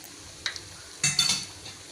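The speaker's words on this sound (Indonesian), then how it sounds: "Kita goreng deh, jangan terlalu banyak diaduk ya" Batter frying in a pan gets stirred, with a few soft scraping and clinking strokes over a faint sizzle, close and fairly quiet, with no talk.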